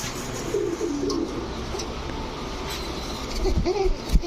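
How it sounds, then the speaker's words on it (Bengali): A red Babra female pigeon gives low, soft coos in a couple of short phrases, close by over a steady background rumble. "এখন দেখাবো লাল বাবরা চুইঠাল একটা মাদি কবুতর।"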